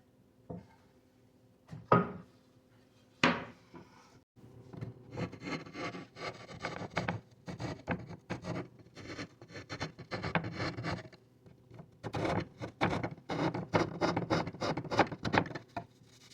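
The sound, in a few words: rasp filing down the sides of a wooden tenon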